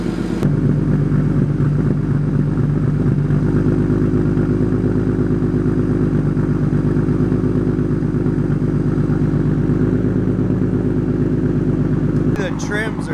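A BMW 135i engine idles rough after warming up, a steady close mechanical drone with an uneven, fluctuating hum that runs throughout, ending with a brief clatter.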